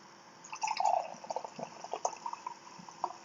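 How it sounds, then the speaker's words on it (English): A drink pours back into a glass with liquid gurgling and splashing in short bursts, close by and fairly quiet, trickling off into a few scattered drips toward the end. "I'm going to pour my drink back in my glass."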